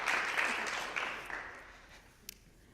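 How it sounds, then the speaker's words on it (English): An audience at a college presentation showcase claps. The applause is loudest at the start and thins out over about two seconds into a few scattered claps. "Let's give one more big round of applause to Bobby."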